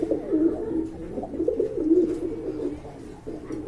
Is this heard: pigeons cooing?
yes